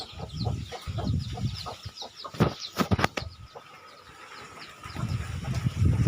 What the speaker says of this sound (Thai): นี่ครับไก่น้อย